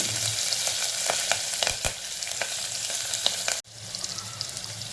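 Garlic and chopped green chillies sizzle vigorously in hot oil inside a pressure cooker, a loud continuous frying hiss broken by sharp crackles and stirring clatters, with a brief dip near the end.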